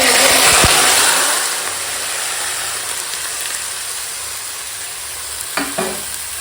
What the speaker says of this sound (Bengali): এখন গোটা গরম মশলা তেজপাতা ফোড়নে দিয়ে দিলাম